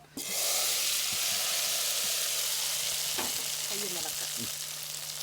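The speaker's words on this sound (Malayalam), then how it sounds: "കടുക് താളിച്ച് ചെറുതായിട്ടൊന്ന് ഇളക്കുക" Mustard seeds sizzle and pop steadily in hot oil while tempering a pumpkin leaf stir-fry, a loud continuous frying hiss with scattered crackles and no talk.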